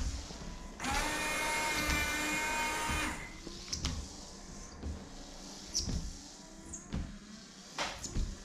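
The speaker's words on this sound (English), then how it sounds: "So here's the wiper. Here's the sprayer." A Can-Am Maverick X3 side-by-side's newly installed windshield wiper motor and sprayer run, a loud steady electric whir and spray for about two seconds, then quieter intermittent clicks and wiper sweeps, close by.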